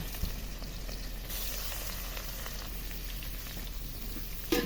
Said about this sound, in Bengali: তারপরে মাছগুলো ভেজে নেব